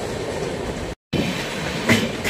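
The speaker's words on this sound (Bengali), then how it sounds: "আমাদের ট্রেন এখন প্রবেশ করছে ফালাকাটা স্টেশনে।" The Brahmaputra Mail passenger train rolls into Falakata station, heard from on board as a steady, loud rumble with faint clickety-clack of wheels and a brief dropout partway through.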